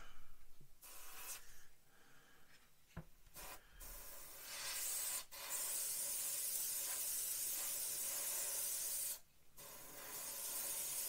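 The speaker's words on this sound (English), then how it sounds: "we'll spray one side and then I'll get the underside" An airbrush sprays paint in long steady hissing bursts with brief pauses between passes, close and soft, with no one speaking.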